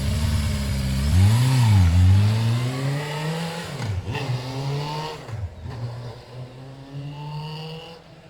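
A Suzuki Bandit 400cc motorcycle engine, running after a snapped spark plug repair, revs up and down repeatedly, the pitch swelling and dropping several times at close range, loud at first and easing off.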